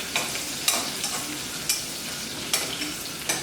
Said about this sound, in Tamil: இது பாதி வதங்கினோடனே நம்ம சாம்பார் வெங்காயத்தை போடலாம்.